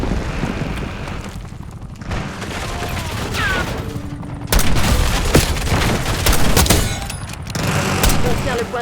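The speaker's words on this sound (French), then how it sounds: "Attention! Grenade frag!" Rapid gunfire and a heavy frag grenade blast in a Nuketown video game match, with dense overlapping shots and booms that grow louder and more intense partway through.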